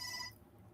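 A phone ringtone chirps briefly for about a third of a second, then cuts off into quiet room tone, faint and nearby.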